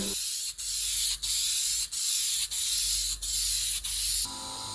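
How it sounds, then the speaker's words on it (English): A flap disc on an angle grinder sands a part from a 1988 Kawasaki KLR650 motorcycle, making a loud, steady, close hiss broken by short regular dips as each pass lifts off, with no talk. "Here's a bit of a clean up with a flappy disc."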